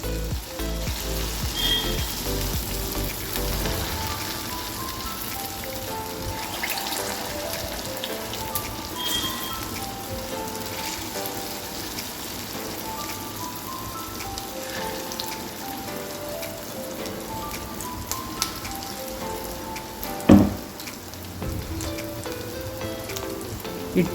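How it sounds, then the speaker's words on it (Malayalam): Spoonfuls of onion batter snack deep-frying in hot oil: a steady, dense crackling sizzle runs throughout at moderate loudness, with a sharper pop or clink near the end and no voices. "എണ്ണ ചൂടായിട്ടുണ്ട്. ഞാൻ സ്പൂൺ കൊണ്ടാണ് ഇട്ട് കൊടുക്കണേ."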